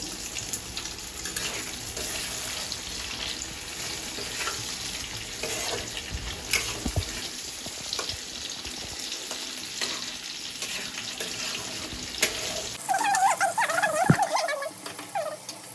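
Tomatoes tipped into a pan of frying meat and onions, a steady soft sizzle running throughout with occasional clinks and stirring, then a brighter, louder crackle near the end.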